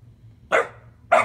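Two short dog barks, about half a second apart, close and fairly loud against a low background hum.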